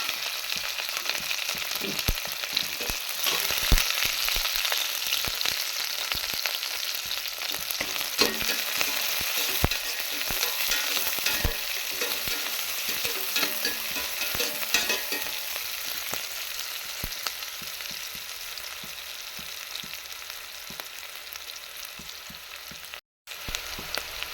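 Onions, curry leaves and green chilies fry in hot oil, a loud steady sizzle and crackle with occasional stirring scrapes, continuous for over twenty seconds without talk.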